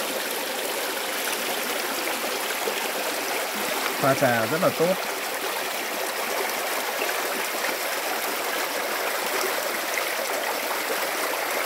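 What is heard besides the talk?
mountain stream flowing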